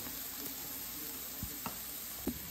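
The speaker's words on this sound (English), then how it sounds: "Now you're gonna saute the ginger and the garlic for 2 minutes" Minced ginger and garlic sauté in a pan after onions, a faint, even sizzle with a few sharp taps from stirring, quiet throughout.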